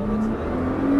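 A Nissan GT-R engine accelerating on the Circuit des Écuyers track, a loud, steady, close drone that climbs slightly in pitch over one brief second, with no talk over it.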